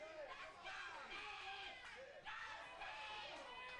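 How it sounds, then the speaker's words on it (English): Wrestling crowd at an NWA match cheers for Steve Lane, a steady roar of voices that rises in waves beneath an excited commentator talking over it. "You hear the crowd getting behind Steve Lane"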